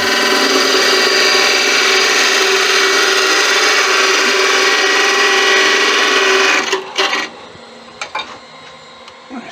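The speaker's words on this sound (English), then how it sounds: "I'm going to put a second tenon in this end." A wood lathe turns a tenon on a bamboo root, giving a loud, steady whirring with a scraping tool edge. It runs for about seven seconds, then winds down and stops, leaving a few faint clunks.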